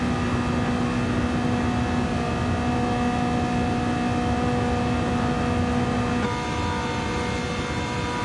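Loud, steady car engine drone in Gran Turismo 7, holding one pitch for about six seconds and then shifting abruptly to a slightly different tone, with no talk over it.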